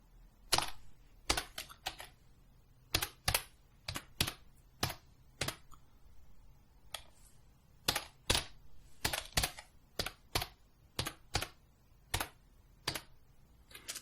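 Python code is typed on a computer keyboard in quick irregular bursts of crisp, close key clicks, with short pauses between runs of keystrokes and a quiet background.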